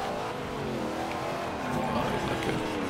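Shelby GT500 racing in Forza Horizon 2, its engine droning and revving steadily throughout with rising pitch sweeps, while a voice exclaims briefly over it.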